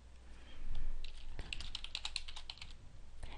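A computer keyboard clicking in a quick burst of close, light keystrokes while a form is filled in, preceded by a soft low thump, with no talking.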